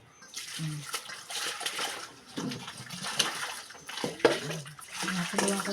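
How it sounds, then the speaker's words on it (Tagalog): Water splashes and trickles into a container, with intermittent pouring bursts and a faint voice in the background. "Ilalagay na tubig sa pitsil."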